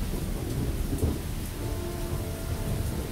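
Steady rain pours over a tiny, deserted railway station in the Lost Horizon game, with deep thunder rumbling throughout and a louder swell near the start, alone with no voices.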